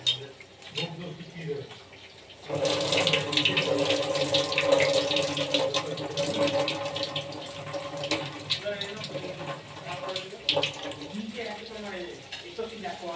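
Soaked biryani rice is tipped into a pot of hot water, producing a sudden rush of pouring and bubbling that settles into a steady watery churn, with a voice talking over it.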